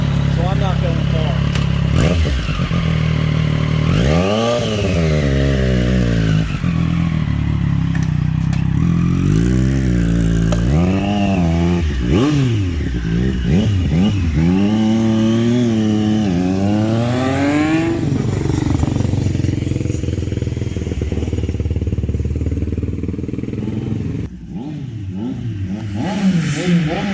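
A 2020 Triumph Street motorcycle fitted with an SC Project S1 titanium exhaust rides around a block, its engine revving up and down through repeated rising and falling sweeps, loud and close, with a voice talking over it at times.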